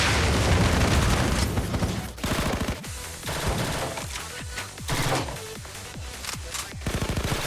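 Rapid fire-support gunfire from the video game Blue Archive, dense overlapping automatic bursts and booming shots rolling continuously, loud and close, with no speech over it.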